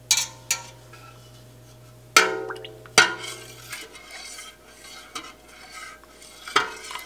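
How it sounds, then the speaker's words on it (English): A spoon scrapes and clinks against a metal pot as milk is stirred for homemade mozzarella, with a few sharp knocks and a steady low hum from the stove underneath. "But I am constantly stirring."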